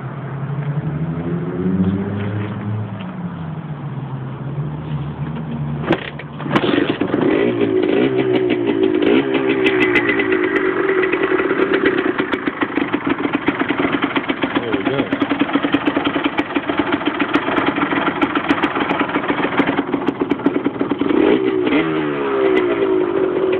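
A Honda MTX125 motorcycle engine cranks and fires up, then settles into a loud, steady, buzzy idle close by with slight revving, someone talking briefly before the start.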